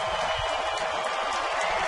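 A big crowd of nearly 29,000 at a Detroit baseball game stands cheering and applauding before the final out, a dense, steady roar of claps and shouts.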